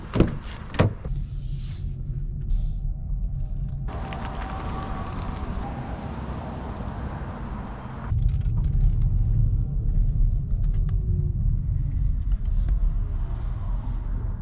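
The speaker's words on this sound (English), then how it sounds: "let's hop into Chevy Bolt, let's go for a ride" A Chevy Bolt electric car moves along with a low road rumble and cabin hum, a couple of knocks and a door-like thump at the start, the rolling noise swelling louder partway through.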